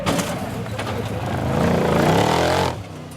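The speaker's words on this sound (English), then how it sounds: "Esma puts foot and they go revving up the incline." An off-road 4x4 vehicle's engine revs hard climbing an incline at a 4x4 trophy event, a loud sustained roar that builds in pitch, then cuts off sharply near the end.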